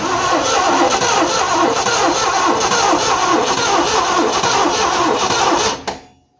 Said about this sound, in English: Sounds like it's got a little dead cylinder